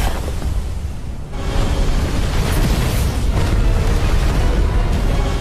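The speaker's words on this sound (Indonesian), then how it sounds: "Sekarang giliran Dimo menyerang Xiao Yixian, membuat awan racun yang menyelimuti mereka pun meledak dan menghilang." An animated poison cloud bursts apart in a loud, sustained roaring explosion, a brief dip after the first second then a dense rumbling blast that holds steady before cutting off.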